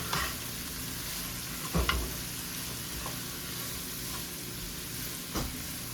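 Shredded cabbage sizzles in bacon grease as a spoon stirs it around the pan, a steady close frying hiss broken by a few scraping, clattering stirs.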